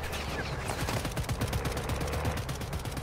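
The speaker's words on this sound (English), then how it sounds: "someone's shooting at him" Rapid automatic gunfire in a first-person shooter, a fast steady stream of close shots rattling for the full few seconds with no pause.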